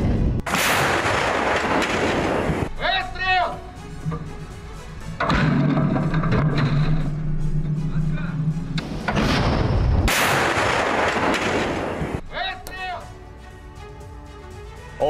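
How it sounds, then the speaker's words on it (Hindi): Russian artillery fires in the Ukraine war, several loud booming blasts with rumbling tails separated by quieter gaps, heard close and under a voice speaking. "यूक्रेन युद्ध में रूसी तोपखाने ने उगली आग, रूसी तोपों के प्रहार से यूक्रेन की सैन्य पोस्ट तबाह हो गई।"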